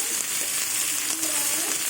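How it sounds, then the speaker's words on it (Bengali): Beetroot, carrot, onion, peas and green chilli fry in mustard oil with black cumin seeds, a close, steady crackling sizzle with faint stirring throughout. "এবার বিট গাজর পেঁয়াজ মটরশুঁটি কাঁচা লঙ্কা দিয়ে দেবো"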